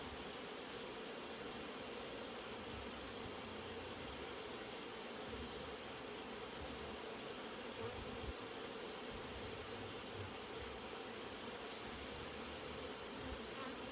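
Honey bees in a hive during an inspection make a dense, steady buzz that stays close and continuous throughout.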